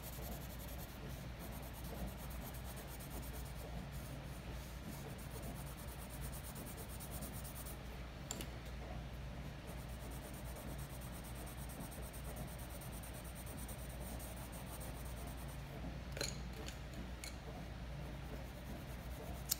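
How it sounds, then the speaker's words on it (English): Colored pencil rubbing across paper in layered, blending strokes that change direction, a soft continuous scratchy hiss at low volume with no voices. "I'm moving my pencil in different directions so that it's not all harsh"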